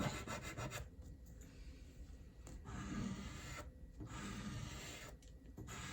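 Chalk pastel scratches across paper while a skeleton drawing is made, giving faint dry raspy strokes in short bursts separated by brief pauses, close by and with no voices.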